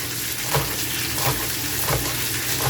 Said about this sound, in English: we'll get 3 pieces of bacon, 3 half pieces, and we're going to make some bacon bits